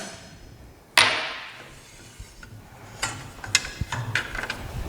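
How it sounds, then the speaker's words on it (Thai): Mechanical clanks and ratcheting clicks as the blade nut is loosened and removed from a circular saw, a sharp knock at the start followed by scattered metallic ticks, close and moderately loud. "คลายน็อตออก อ่ะถอดน็อตออกมา"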